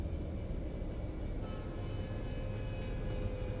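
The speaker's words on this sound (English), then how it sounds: "That's a train." A train rumbles past nearby, a steady low, continuous roar of rail traffic with faint high squeals, holding level through the whole stretch with no talk over it.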